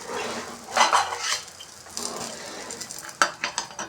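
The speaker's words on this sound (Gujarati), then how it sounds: "હવે જે આપણે ઈડલી તૈયાર કરી બેટર રાખ્યું છે મસાલા ઈડલીનું એ ઉમેરશું આ રીતે અને ઢાંકી અને થવા દઈશું" Masala idli batter is poured into a hot tadka pan and a lid is set over it, giving a close sizzle under clinks and clatters of metal cookware, ending with a few sharp knocks.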